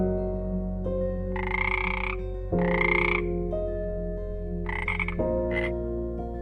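A frog croaks in loud, close, raspy bursts, four or five calls spaced over several seconds against a sustained tonal background.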